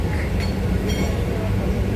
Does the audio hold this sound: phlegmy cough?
no